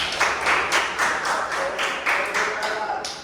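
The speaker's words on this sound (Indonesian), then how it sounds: "Tepuk tangan." Classroom applause from students, a ragged burst of clapping in even pulses with a faint voice underneath, moderately loud and close.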